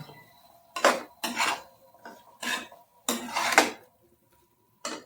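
Mutton liver and tomato being sautéed in a pan on the stove, with a series of scraping, clanking stirs in short bursts, fairly close and clear, with quiet gaps between strokes.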